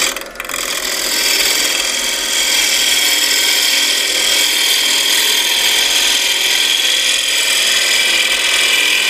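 A wood lathe turns a live edge oak bowl of former firewood, a loud, steady close-up whine and hiss of the cutting tool with slight vibration, running continuously after a brief rough start.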